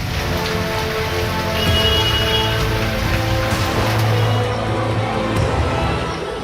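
Heavy rain pours down steadily in Dewas, Madhya Pradesh, a dense, loud hiss of drops hitting surfaces, unbroken and rising slightly in the middle.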